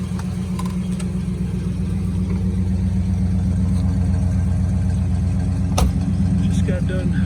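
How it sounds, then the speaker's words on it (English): A green 1964 Studebaker Gran Turismo backs out with its engine running at a steady low idle, a loud continuous rumble with a brief bump near the end. "Backing her out. 1964 Studebaker GT."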